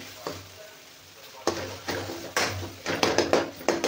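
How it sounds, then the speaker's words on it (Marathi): Masala with tomatoes fries in a pan with a close sizzle, broken by several sharp stirring scrapes and clatters of a spoon against the pan that come more often toward the end, with no talking. "आता हलका छान असा मसाला आपल्याला हे तळून घ्यायचा आहे."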